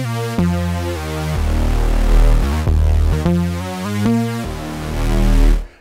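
Modal Cobalt8 virtual-analogue synthesizer playing sustained chords with drifting oscillators, a fat, warm, loud tone in several held phrases that change pitch every second or so, with no voices.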